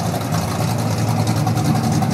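A freshly bought 1987 short-bed truck sits running with its engine rumbling loud and steady up close, a deep throbbing idle without talking.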